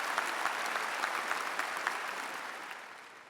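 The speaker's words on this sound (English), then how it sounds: "It's worth a round of applause." Audience applause at a high school graduation ceremony, a steady wash of clapping from a large crowd that holds even, then slowly thins and fades toward the end.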